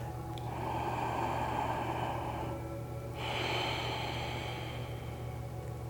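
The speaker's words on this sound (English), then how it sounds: "Taking a breath." A person draws a slow, audible breath through the nose during a yoga exercise, two soft airy inhalation swells close to the mic over a faint steady hum.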